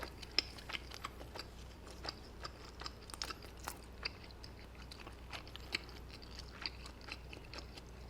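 Quiet, close chewing of spaghetti during a calm mukbang, with soft irregular bites and crunchy mouth sounds at a slow pace and no talking.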